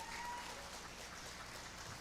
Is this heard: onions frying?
no